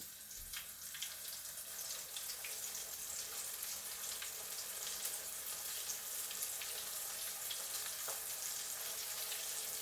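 Lightly battered, seasoned fish fries in hot oil, giving a steady, quiet crackling sizzle with small pops scattered through it and no talking.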